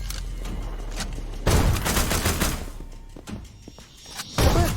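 Bursts of gunfire and a heavy cannon-like boom from The Walking Dead: Destinies video game, dense crackling shots in rapid clusters with thuds, loud and continuous with a short lull before another blast.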